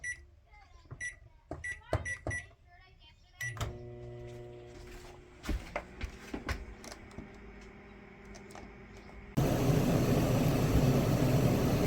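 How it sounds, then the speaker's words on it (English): A microwave oven heating a small cup of water, powered from a 48-volt LiFePO4 battery bank. A few keypad beeps and clicks come first, then a steady close hum. A loud, broad fan roar from the air conditioner joins near the end. "that's the microwave running right now"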